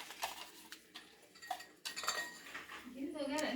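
A metal tiffin box clinks and clatters while it is lined with butter paper in a home kitchen, with several sharp metallic knocks and scrapes, close and fairly quiet.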